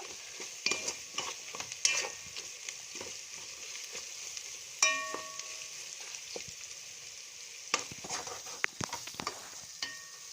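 A spoonful of masala powder frying lightly in a pan for chicken curry makes a quiet sizzle. Scattered utensil clinks and scrapes against the pan come in short bursts.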